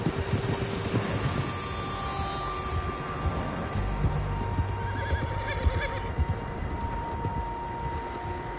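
Horses neigh and whinny in the Red Dead Redemption 2 game world over a steady outdoor ambience with hoof clops, several animals at mid distance, no talk.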